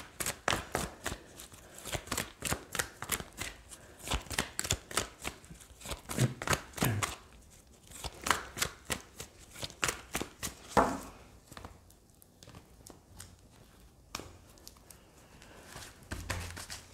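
A deck of oracle cards is handled and shuffled in a quick, uneven stream of close papery slaps and flicks that thins out into scattered taps near the end, with no speech.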